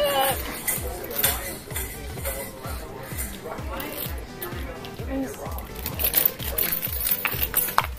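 A small child shakes and jangles a set of keys during hurricane preparations, producing bright metallic clinks and rattles that come in irregular bursts over a steady rhythmic background and voices.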